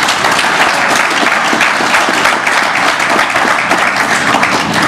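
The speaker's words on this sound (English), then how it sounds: "this, ladies and gentlemen, deserves a round of applause" Loud, sustained applause from an audience at the official opening of Corobrick's Kwastina clay brick manufacturing factory, a dense continuous wash of clapping hands lasting several seconds with no talk over it.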